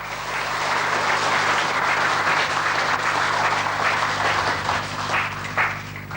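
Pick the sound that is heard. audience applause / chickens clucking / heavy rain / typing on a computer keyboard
audience applause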